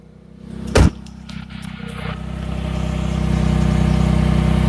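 A supercharged 1989 Mitsubishi Mini Cab Bravo engine heard at the exhaust, idling with a steady low drone after a sharp thump, the pulsing note gradually growing louder and rougher, close up with no speech.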